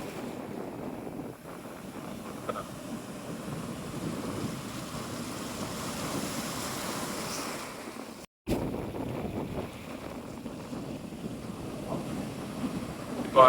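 Sea waves wash onto a beach with a strong undertow, making a continuous rushing surf mixed with gusty wind buffeting the microphone and one brief dropout near the end, with no talking.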